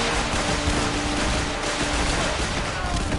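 Dense, rapid bursts of gunfire in the video game Fallout 4 crackle continuously, overlapping one another like a sustained firefight, loud and close throughout.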